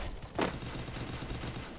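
Gunfire from the battle-royale video game Free Fire, a dense, continuous wash of rapid shots with one brighter burst standing out early, loud and unbroken throughout with no voices over it.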